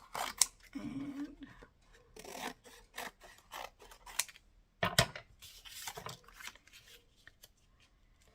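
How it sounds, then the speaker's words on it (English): Fussy-cutting scissors snip and crunch through paper in short bursts, close up and fairly quiet, with brief rustling between cuts and a word spoken. "Try the right pair of scissors. That's my fussy cutting scissors I keep using."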